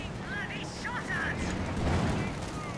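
Cannon fire from AEC armoured cars in Company of Heroes 2 rattles along as a dense, fairly quiet stream of battle noise with overlapping shots. A voice talks over it throughout.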